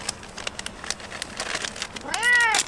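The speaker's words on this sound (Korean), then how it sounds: "어디서 얻어먹고 다니는 야옹이구만" A stray cat at a seaside campsite gives one clear, drawn-out meow near the end, close by, after a stretch of soft scattered patter and rustling.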